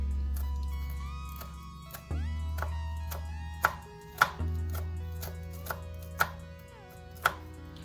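A knife chops vegetables for a bearded dragon salad on a cutting board, giving several sharp, distinct cuts at irregular intervals over a low steady hum.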